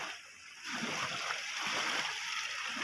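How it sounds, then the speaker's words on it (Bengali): Water pours out of containers holding fish spawn, a steady close splashing stream that runs continuously after a brief quieter start. "ক্রেতার পছন্দ হবে ততক্ষণ জল এইভাবে এরা জল ঢেলে যাবে"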